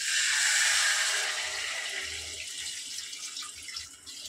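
Water pours into a pot of fried-down fish curry, a loud rushing gush at first that settles into a softer, steady pour with light bubbling and clinks.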